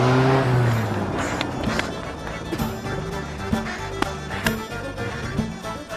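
A stolen car pulls away amid a comic street chase, engine and tire noise close and busy, with shouting voices over it and several sharp knocks along the way.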